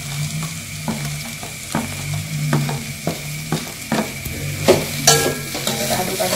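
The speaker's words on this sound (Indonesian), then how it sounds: "Kita aduk-aduk dulu sampai dia matang." Mie goreng noodles with seasoning and soy sauce are stir-fried in a pan, a steady loud sizzle punctuated by regular scraping strokes of the spatula, close up and without voices.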